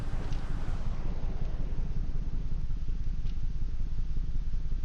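A rough, rumbling video game engine of a Ford Crown Victoria police car runs steadily throughout, low and loud with a tractor-like clattering, uneven chug and no voices.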